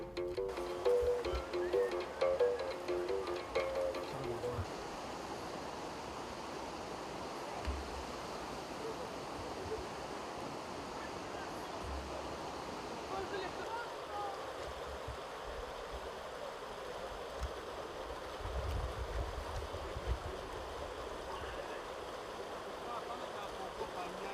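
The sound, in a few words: Lofoï river flowing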